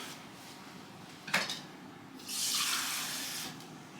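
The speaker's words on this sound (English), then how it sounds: "I'm going to add me a little water in here" Water is poured from a measuring cup, about half a cup, into a pan of smoked Hatch chile three-cheese mac and cheese, a steady close splashing pour lasting over a second after a brief clink.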